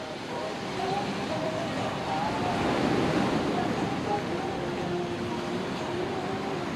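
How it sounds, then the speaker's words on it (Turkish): Sea surf rolling in just across from a beachfront hotel on Gili Trawangan, a steady close wash of waves with light wind noise, alone without voices. "Hemen karşısı da böyle deniz"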